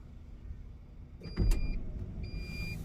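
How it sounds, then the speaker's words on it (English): Power sliding door on a 2018 Volkswagen Sharan 1.4 TSI SE DSG closing electrically, a steady motor hum that ends in a firm thud as the door latches, recorded close by with no talking. "Shuts the door electronically."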